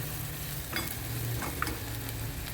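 Turmeric and masala sizzle steadily in hot oil in a pan for a raw papaya bhaji, with a few soft clinks as the spices are stirred and turned.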